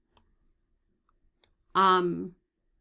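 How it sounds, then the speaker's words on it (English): A computer mouse clicks twice, sharp and quiet, about a second apart in a silent room, and then a short burst of voice follows. "And I click OK."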